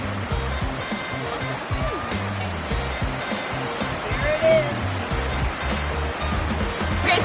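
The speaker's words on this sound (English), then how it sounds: "for going to a waterfall like this. You can hear it out here. It's so loud." Horsethief Falls on a Cripple Creek hiking trail, a loud, steady roar of falling water close by, with no voices over it.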